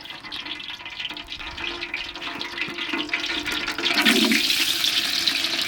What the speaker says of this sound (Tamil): இதை நல்லா போட்டு வறுத்துக்க போகிறோம் எண்ணெயில்